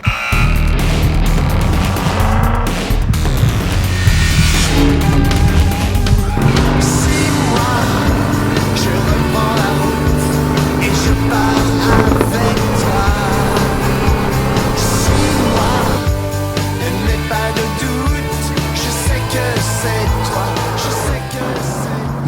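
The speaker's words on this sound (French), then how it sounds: "cette Aston Martin DB11 V8 4 litres biturbo, développant pas moins de 510 chevaux" Aston Martin DB11 with a 510-horsepower 4-litre V8 biturbo engine driving, its loud engine note rising and falling in pitch through revs, close and continuous throughout.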